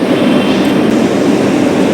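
The Tirupati Express, also run as the Sapthagiri Express, stands or moves at MGR Chennai Central station, giving off a loud, steady rumble with a broad hiss and no voices.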